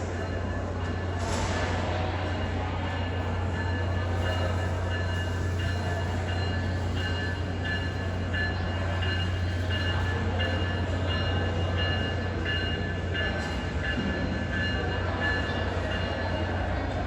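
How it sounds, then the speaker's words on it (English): A northbound BNSF manifest freight train rolls past near Everett, a continuous loud rumble of wheels and cars with a steady low drone and brief high squeals, close by and without talk. "a northbound BNSF manifest is heading for Everett"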